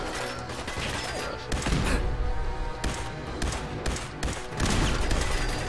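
Rapid bursts of video-game gunfire from Fallout 4, loud and dense with repeated sharp cracks and heavy thumps, including explosions from grenades, continuing throughout with no talking.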